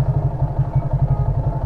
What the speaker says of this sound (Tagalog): relax muna natin yung makina natin bago nating i-off yung engine para nakarelax siya